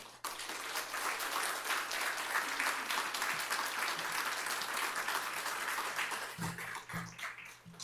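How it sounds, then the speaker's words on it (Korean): Sustained audience applause, a dense steady clapping that holds for several seconds before thinning out near the end. "목사님 나오실 때 큰 박수로 맞이하겠습니다"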